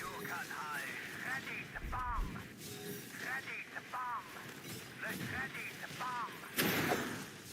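Explosions from a bomber's bombing run in the war strategy game Warpath, several low booms and blasts rolling under steady battle noise and talk, ending in a loud burst near the close.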